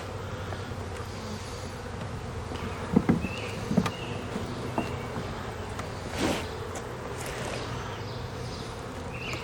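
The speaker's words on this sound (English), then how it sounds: "There's a lot of bees up here working" Honey bees buzz steadily around a honey super frame on a beehive, a dense continuous hum close by with a few brief louder passes of individual bees.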